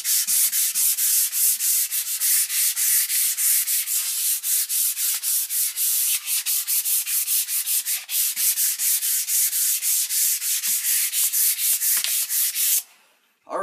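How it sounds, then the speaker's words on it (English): A wooden picture frame is hand sanded with 400 grit sandpaper in quick, steady back-and-forth strokes, a loud close scratchy rasp that continues for about twelve seconds, then stops abruptly. "I'm just gonna go over it with some 400 grit sandpaper"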